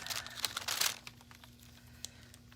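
A silicone mold peeling off a fresh casting gives a short burst of crinkly, tearing rubbery crackle up close, fading into a faint steady hum with a few isolated ticks.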